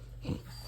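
A dog gives one short, close yawn while stretching: a soft breathy wheeze that rises into a brief squeaky whine, quiet and over in under a second.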